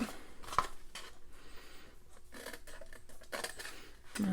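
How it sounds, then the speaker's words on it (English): Scissors cutting score lines into cardstock for a milk carton treat box, a handful of crisp close snips at uneven intervals with quiet paper rustle between them. "on the long side, we're gonna cut each of these score lines"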